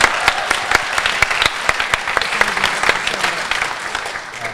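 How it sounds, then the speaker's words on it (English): Audience applause at the Hack the North hackathon closing ceremony, a steady wash of many hands with sharp individual claps standing out, sustained and fairly loud throughout. "if you give yourself a round of applause"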